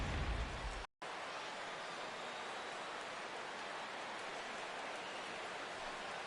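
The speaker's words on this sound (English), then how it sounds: "The rain, as we've mentioned, coming down fairly steadily here at game time" Steady rain coming down on the ballpark at an Astros at Yankees game in MLB The Show 16, a continuous broadband hiss with a brief dropout near the start, no voices.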